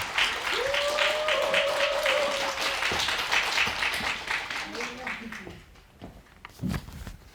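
An audience at a hospital quality-improvement conference applauds a presenter, a dense sustained wash of clapping that fades toward the end, with a voice and tonal sounds briefly audible over it.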